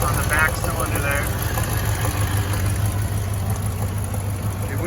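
A 1969 Cadillac De Ville V8 idles with a leaking exhaust manifold missing two bolts on the back cylinder, a steady low rumble with a ticking pulse while someone talks over it.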